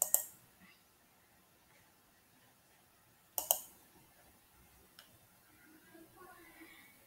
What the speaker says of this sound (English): Then you can click on register.